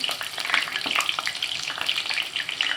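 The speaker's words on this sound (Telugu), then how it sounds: "ఇట్లా ఒక్కొక్కటి వేసుకుంటే ఆయిల్లో ఫ్రై చేసుకోవాలండి" Sweet corn samosas deep-fry in hot oil, added one by one. A busy, crackling sizzle bubbles continuously at close range, with no voices.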